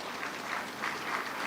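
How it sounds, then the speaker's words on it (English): Audience applause at a public gathering, a soft, even wash of many hands clapping heard from a distance, faint and steady throughout. "Please clap for him."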